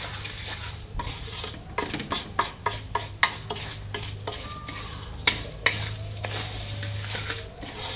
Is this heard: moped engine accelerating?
no